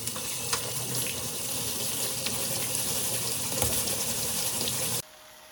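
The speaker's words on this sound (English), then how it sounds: "Rinse 90 grams of long grain rice." Long grain rice being rinsed under a running kitchen tap: a steady, close gush of water splashing into a sink, even and continuous for about five seconds, then cutting off abruptly into near silence.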